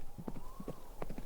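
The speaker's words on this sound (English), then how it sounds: "Once clear of the docks and the market, the ladies set these northern steeds into full gallops, as Nymeria ran at a distance" Horses galloping, a quick, rhythmic clip-clop of hooves in close, repeating clusters, fairly near and steady over a low background rumble.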